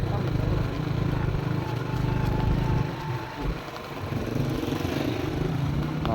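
Motorcycle engine running on a rural farm track near a river crossing, a steady close drone that dips briefly midway, then resumes, with people talking over it.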